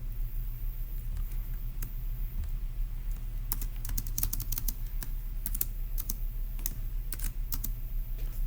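Someone types notes on a computer keyboard during a Turing Machine puzzle game, with soft, close key clicks in irregular bursts over a constant low electrical hum.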